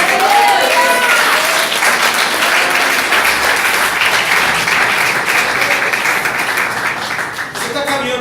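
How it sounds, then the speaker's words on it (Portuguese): Loud, continuous applause from a congregation at a faith and finance church seminar, with cheering voices and shouting rising over the clapping before it thins out near the end. "Quem pode aplaudir e glorificar o nome de Deus?"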